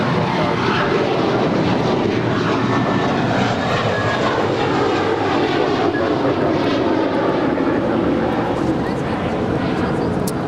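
Airliner taking off from runway 25 right at Los Angeles International Airport, a loud sustained jet engine roar filling the whole span, steady and broad without pause.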